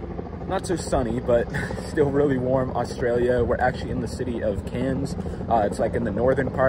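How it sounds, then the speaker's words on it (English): A helicopter preparing to take off in Cairns, northern Australia, giving a steady droning rotor and engine hum in the background beneath close continuous talking. "there's actually a helicopter about to take off."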